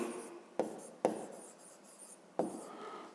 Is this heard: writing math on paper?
yes